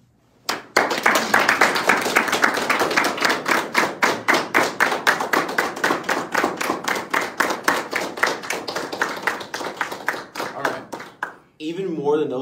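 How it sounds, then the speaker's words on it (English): A Navy enlistment ceremony audience breaks into a round of applause, loud, close, rhythmic clapping that starts abruptly, runs steadily, then stops before a voice begins speaking at the end. "let's give them a round of applause by way of Facebook"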